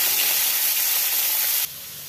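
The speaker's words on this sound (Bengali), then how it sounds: "ম্যারিনেট করা মাছগুলোকে আমি হালকা করে ভেজে নেব, পুরো রান্নাটাই সর্ষের তেলে করব" Marinated rohu fish pieces frying lightly in mustard oil, a loud, steady close hiss of hot oil that suddenly drops to a softer level near the end, with no talk.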